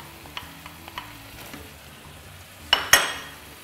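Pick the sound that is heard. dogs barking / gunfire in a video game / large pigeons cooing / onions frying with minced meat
onions frying with minced meat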